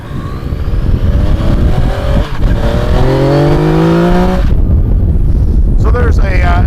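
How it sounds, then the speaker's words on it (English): Yamaha FJ-09 Tracer 900 motorcycle with an airbox modification, its loud intake roar rising in pitch as it accelerates hard through the gears, heard up close from the rider's position, with wind noise. "there's a considerable increase in intake noise with the airbox modification"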